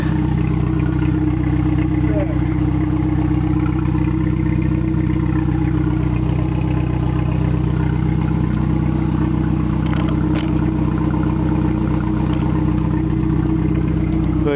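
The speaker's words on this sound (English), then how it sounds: "aside from the incredibly loud exhaust" A 1996 Chevrolet Cavalier engine running with a very loud exhaust, an unbroken heavy drone heard up close, with a faint voice underneath and a few light clatters.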